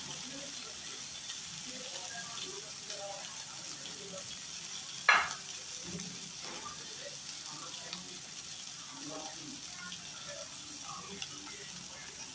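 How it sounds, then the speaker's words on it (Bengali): Spices sautéing in a pan for a tangra fish curry with potato and brinjal, turmeric and chilli powder just added; a soft, steady sizzle runs throughout with one sharp utensil clink and faint stirring scrapes, and no voice is heard. "এটা আমি ভালো করে একটু কষিয়ে নেব"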